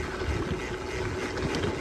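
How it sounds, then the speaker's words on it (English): Constant roaring buffet of strong wind against a microphone while bikepacking on gravel roads in the Arkansas high country, low and rumbling with no pauses, nothing else standing out. "Really windy"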